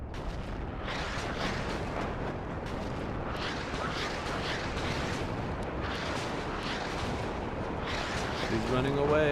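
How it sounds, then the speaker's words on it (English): Repeated rumbling bursts of Grad rocket artillery fire in the video game WARNO roll in from a distance, one after another, with a voice faintly present underneath. "I think I hear Grads shooting too, actually."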